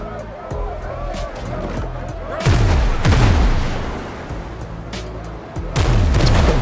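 Ship cannons fire in the pirate video game Windrose, heavy booming blasts arriving in a few bursts over a constant rumbling game soundscape, with faint voices in the mix.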